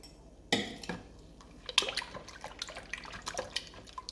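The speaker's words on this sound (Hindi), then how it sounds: "ये 2 गिलास पानी डाल दिया।" Two glasses of water are poured into kadhi batter being mixed in a bowl, giving a close splash followed by a run of irregular drips and sloshes, moderately quiet and with no talking.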